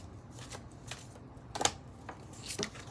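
Compassion cards being shuffled by hand, soft papery riffles in a few short bursts, close and fairly quiet, with no speech over them.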